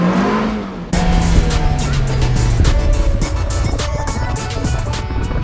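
An Alfa Romeo 4C sports car, an early launch edition without power steering, drives on a road with a loud engine that shifts pitch through the gears, steady and close.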